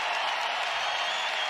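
At a Big Ten college wrestling dual between Northwestern and Iowa, the arena crowd rises in a brief, steady wash of applause and cheering, loud and unbroken.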